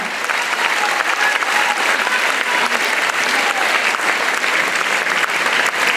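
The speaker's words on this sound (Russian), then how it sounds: "Аплодисменты вам." Sustained, dense applause from a large concert-hall audience after a chamber orchestra performance, steady and loud throughout without pause.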